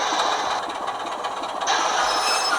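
A Sutton's Locomotive Works model Class 24 locomotive coasts along a test track, producing a close, continuous whirring rumble with faint rail clicking that stays steady throughout, without any voices.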